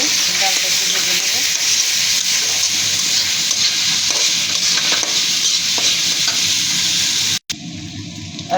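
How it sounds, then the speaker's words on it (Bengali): Soaked lentils (dal) fry with chopped onion in a pan, giving a loud, continuous sizzle and hiss with some stirring scrapes. The sizzle cuts out briefly near the end, then resumes more softly. No speech is heard. "ডালটা একটু ভেজে নেব"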